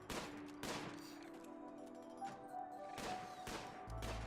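Several broadband gunshot bursts from hunting in the video game RimWorld, cracking at a steady irregular rhythm over a low game ambience, fairly close and moderately loud with no talk.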